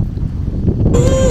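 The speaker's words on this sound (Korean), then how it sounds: "태풍이 지나갈 때까지 계속 이 뒷바람이 불어" Steady wind blows along the Jeju seashore during a typhoon, a continuous loud rush buffeting the microphone, with a brief rattle or flutter rising near the end.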